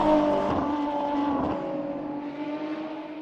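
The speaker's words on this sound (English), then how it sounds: "Ferrari F50 boasts an astonishing V12 that sounds just tremendous." Ferrari F50 with its race-derived V12, over 500 horsepower, roaring loudly up close with steady harmonic engine tone, a brief rev surge in the middle before settling into a sustained drone.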